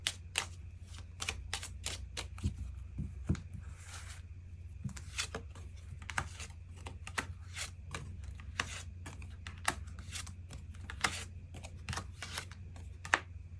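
Tarot cards are drawn and shuffled by hand at close range, giving many quick, light card snaps and slides in irregular bursts over a steady low hum, with no voice.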